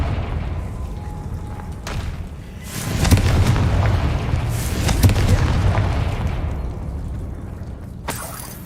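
Confringo blasting spell explosion in Hogwarts Legacy, a loud booming burst with shattering debris swelling midway, then settling into a rumbling tail over steady background ambience, with a smaller crack near the end.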